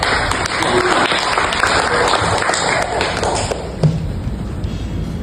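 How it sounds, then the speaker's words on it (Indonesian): Audience clapping for the organizers at an Indonesian independence-day speech contest, steady applause with a few thuds and taps that thins out toward the end while faint voices carry underneath. "Kita tepuk tangan dulu untuk panitia."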